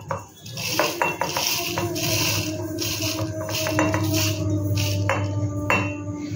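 Roasted spices, including bay leaves, being crushed for a sweet mango pickle in a small metal mortar and pestle, with clear, repeated clinks and scrapes close by over a steady low background hum.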